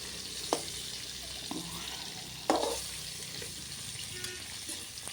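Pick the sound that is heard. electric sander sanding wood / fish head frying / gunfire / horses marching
fish head frying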